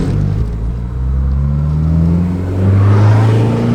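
Honda S2000 engine revving hard from inside the car, a loud rising engine note that climbs in pitch and swells as it pulls into VTEC.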